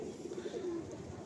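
A female pigeon gives a single soft, low coo, close and brief, under a faint background hum.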